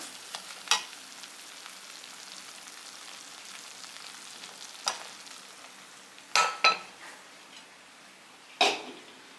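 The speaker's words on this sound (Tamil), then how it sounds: "ரவையை வந்து ஒரு அடுப்பில் இப்படி வறுத்துக்கிட்டே" Dry semolina grains scraped and stirred in a hot pan with a soft steady hiss, punctuated by a few sharp spoon clinks against the metal.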